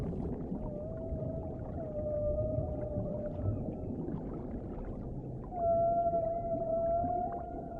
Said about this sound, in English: The humpback song is a powerful form of communication.